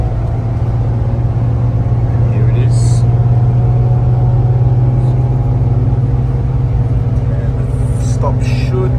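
A Transperth bus drives past Balcatta Senior High School, its engine giving a steady, loud low drone with continuous road rumble throughout and a few brief higher rattles or squeaks.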